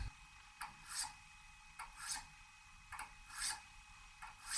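A Woodsman broadhead drawn across a 1000 grit sharpening stone: about five steady, even rasping strokes, close and clear, with short quiet gaps between them and no voices.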